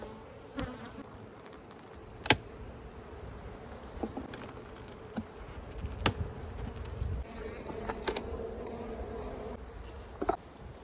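Honey bees drone around an open hive in a strong colony, a steady buzzing hum with occasional sharp knocks and clicks from hive equipment, and brighter close passes late on.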